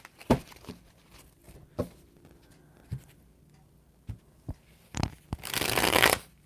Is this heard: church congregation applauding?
no